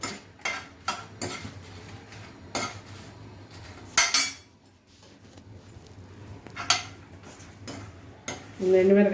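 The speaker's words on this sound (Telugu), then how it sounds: "కొంచెం నూనె వేసుకొని ఎండుమిరపకాయలు," Dried red chillies frying in a little oil while a spoon clatters and scrapes against the pan in irregular bursts, close by, with a faint sizzle underneath and brief speech.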